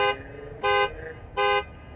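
Aftermarket Hella horns fitted to a 2015 Ford Explorer give two short, loud, bright honks, heard from several car lengths away with quiet gaps between blasts.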